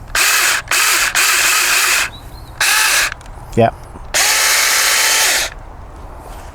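Several loud bursts of a battery chainsaw whirring in short runs with pauses between while cutting tree branches, close by; a voice briefly speaks during a gap.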